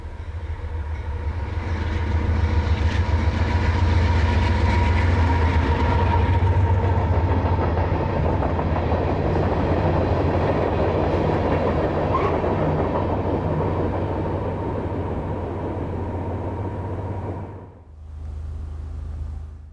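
CSX freight train L806 rolls past on the W&A line near Dalton, a loud, sustained diesel rumble with clattering wheels that holds steady for most of the time before fading abruptly near the end.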